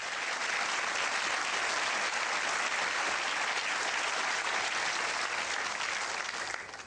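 Studio audience applauding on the UK quiz show Who Wants To Be a Millionaire, a dense, even wash of clapping held steady throughout before tapering at the very end.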